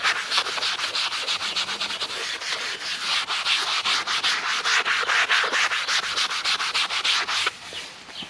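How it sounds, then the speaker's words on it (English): A magic eraser scrubs ingrained dirt inside a car, loud rhythmic back-and-forth rubbing strokes right up close, steady for several seconds before easing off at the end. "just agitate those more ingrained bits with your magic eraser"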